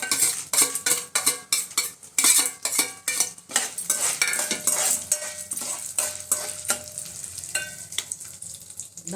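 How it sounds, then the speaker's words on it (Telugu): Chana dal and spices frying in a pan for a curry leaf powder, with a steady sizzle broken by repeated sharp scrapes and clinks of a metal spoon stirring against the pan, close and fairly loud with no talking. "ఇవి కొంచెం ఉడికేటప్పుడు శనగపప్పు"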